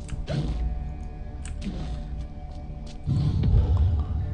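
A pressure plate mechanism grinds open in Alice: Madness Returns, a drawn-out creaking, clunking sequence of mechanical movement that swells louder near the end over a low humming background.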